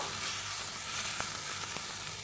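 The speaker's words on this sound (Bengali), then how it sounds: "ক্যাপসিকামটা দিয়ে আমি আবারও কিছুক্ষণ নেড়ে চেড়ে নেব" Chopped red capsicum is stirred and fried in a pan, giving a steady soft sizzle with a few faint scrapes and taps from stirring and no voices.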